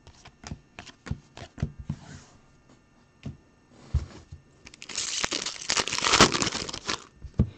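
Orange paper being crinkled and torn while packs are opened during a live card break, with brief crisp crackles early that swell into a dense, loud stretch of rustling near the end.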